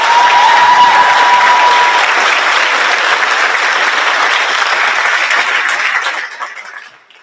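Loud, dense applause from a large audience at a high school graduation ceremony fills the space steadily, then tapers off and fades out near the end.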